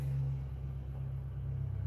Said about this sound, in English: Oh, I hear the diesel. I hear the big old diesel truck.